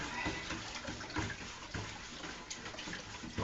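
Spoon stirring a sugar and water mix in a container for honeybee feed, a steady close swishing and sloshing of liquid with occasional knocks against the sides, no talk.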